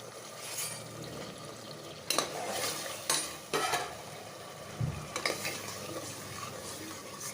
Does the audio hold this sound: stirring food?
yes